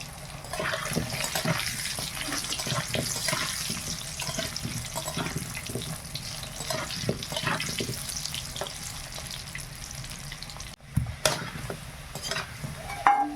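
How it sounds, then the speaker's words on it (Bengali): Soft steady sizzling of potatoes frying in oil, with occasional stirring scrapes close by and no talking. "আলুটা আগে ভেজে নেই।"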